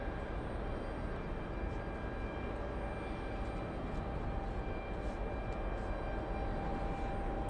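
An Alaska Airlines airliner departs JFK airport, heard as a faint, distant, steady jet rumble that holds evenly throughout with no voices.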